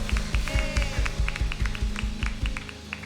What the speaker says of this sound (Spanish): aplauso al Señor, amén